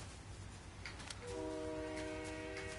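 A train approaching with rumble underneath, then its horn sounds a sustained multi-tone blast that holds steadily to the end, fairly close.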